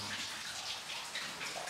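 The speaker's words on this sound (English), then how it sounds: "There's, you know, a little brook flowing through here." Small brook flowing out of the entrance of the abandoned Gold Brook gold mine, a soft, steady trickle and gurgle of water, faint and continuous with no voices.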